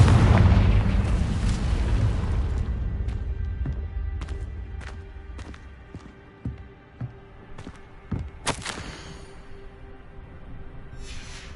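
A Confringo spell detonating in the Hogwarts Legacy video game, a loud rumbling explosive boom that decays over several seconds, followed by scattered sharp pops and bursts, with no talking.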